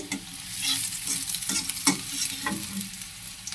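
Onions fry with a steady sizzle in a hot kadai while a spatula scrapes and stirs them in a few uneven strokes, close and alone with no talking.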